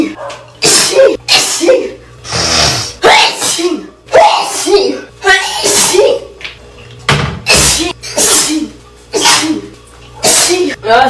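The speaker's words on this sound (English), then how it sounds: "I don't think I've ever filmed myself sneezing" A person sneezes repeatedly at close range, several sharp bursts spread across the span with short breaths and pauses between them, loud and distinct.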